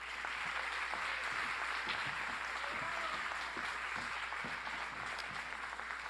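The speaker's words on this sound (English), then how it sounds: "Let's go ahead and give another round of applause for Autumn." Sustained audience applause fills a gala hall, dense steady clapping from many hands at moderate distance with no talking over it.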